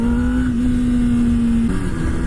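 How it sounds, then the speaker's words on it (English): Loud engine at a steady high idle held around 5,000 RPM, then a sudden pitch drop and roughness as the clutch is popped on a motorcycle pulling a wheelie, with a continuous close, heavy drone throughout. "I'm gonna pop the clutch and give it some gas."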